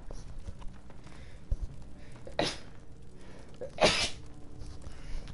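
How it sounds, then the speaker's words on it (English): Two sharp, quick sneezes a second and a half apart, near and fairly loud against a quiet room with faint background noise. "I'm about to sneeze."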